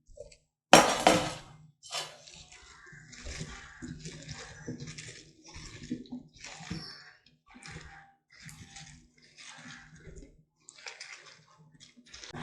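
Cauliflower florets tossed with masala powder in a bowl for Cauliflower 65, a sharp first clack followed by gentle irregular scraping and light clinks, close and soft.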